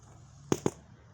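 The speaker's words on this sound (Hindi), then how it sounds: "ओ पटाखा फूट रहा इधर आ, इधर आ।" Two sharp firecracker pops burst in quick succession outdoors, loud against a quiet background hum, with no talking during the bangs.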